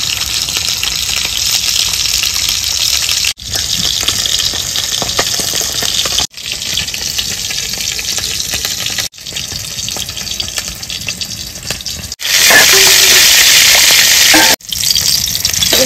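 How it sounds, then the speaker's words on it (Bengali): A hilsa fish tail fries in hot raw mustard oil, producing a loud, dense, continuous sizzle close up, broken by several abrupt cuts and swelling brighter in one stretch. "তেল গরম হয়ে গেছে, মাছের লেজাটা দিয়ে দেবো।"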